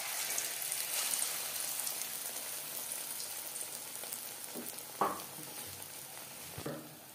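Fish pakora pieces frying in hot refined oil, a faint, steady sizzle with a couple of louder crackling bursts as pieces go in.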